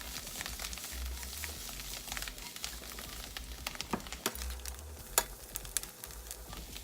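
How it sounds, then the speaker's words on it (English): Portobello mushrooms, browning and softening, sizzle faintly in a pan, a soft steady crackle with occasional sharp pops and clicks. "Got a little bit of that sizzle going on right there in that corner."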